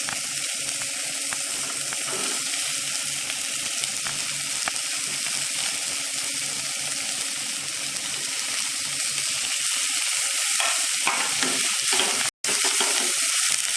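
Mixed vegetables for millet upma sautéing in a pan, a steady soft sizzle with occasional stirring scrapes, close and fairly quiet, with a sharp click near the end.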